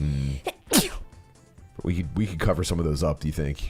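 A single sharp sneeze bursts out loudly near the start, followed by a pause and then casual conversation between people during a relaxed morning coffee stream.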